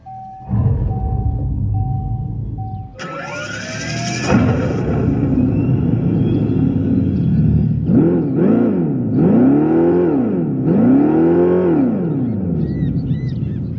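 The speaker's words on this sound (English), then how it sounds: "you are able to rev it in the sport mode and hear those sounds" A 2025 Dodge Charger EV R/T powers up with a rising synthetic whine, then in sport mode produces three or four swelling, roaring revs of its simulated engine sound, loud and close, with no one talking.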